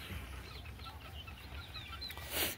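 Golden Misri chickens on a farm clucking softly in short scattered calls over steady background hum, with one brief louder burst near the end.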